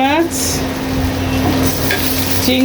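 Shrimp, rohu fish and dried chillies fry in hot oil with a loud, steady sizzle, joined by occasional clinks of utensils against the pan and brief faint voices.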